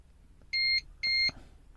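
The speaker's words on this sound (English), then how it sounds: "I'm really sorry for the beeping, guys." Two sharp electronic beeps, each about a quarter second long, evenly spaced and loud against a quiet background.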